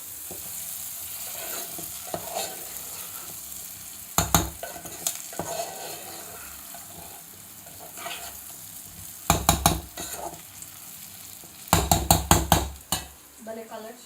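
Brinjal (eggplant) pieces fry in a pan with a soft, continuous sizzle, broken by sharp clattering bursts as a utensil stirs and scrapes them, the loudest scraping coming near the end.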